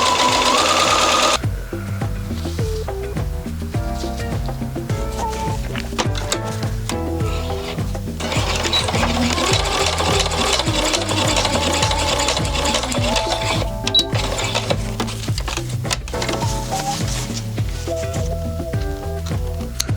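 A sewing machine stitches a test seam on scrap fabric while a fitted bustier dress is being made, its loud, steady mechanical whir running continuously and close by for the whole stretch, with no voices.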